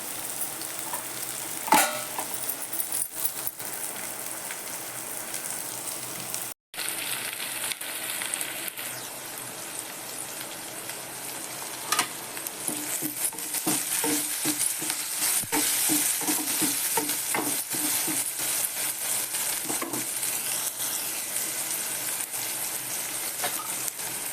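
Tomato going into a hot pan for moong dal with onions, frying with a steady close sizzle and repeated stirring strokes, with no talking.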